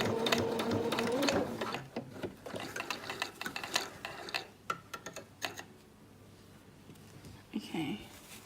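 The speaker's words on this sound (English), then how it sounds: "And then back stitch that." A sewing machine back stitches a fabric scrunchie in short, close bursts of rapid mechanical whirring and clatter with brief stops between runs. Some faint background sound carries under the machine.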